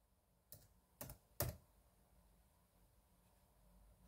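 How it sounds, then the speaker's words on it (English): A computer keyboard being typed on while setting a time zone during an operating system installation. Three quick, distinct keystrokes sound close by against a quiet background hiss, with no talk. "you just click in there and type where you are."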